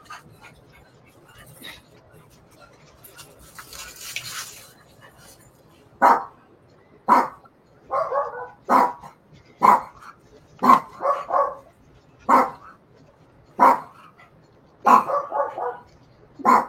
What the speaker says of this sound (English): Yeah, she's barking too.